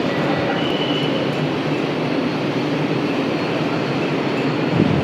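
An air-conditioned Kolkata local train running between Sealdah and Ranaghat, with a steady, loud rumble of wheels and carriage noise that continues without a break and has no talk over it.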